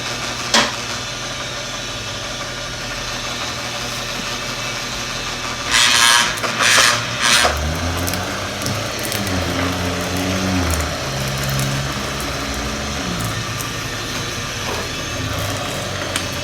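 A wire stripping machine runs copper Romex wire through with a steady mechanical drone and a rumbling hum, with a burst of louder clattering partway through.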